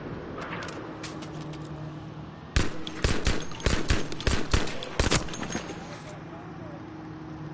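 Rifle fire followed by sidearm shots in the video game Payday 2: a dense, loud burst of rapid sharp gunshots lasting several seconds, set between quieter stretches of low ambient game noise.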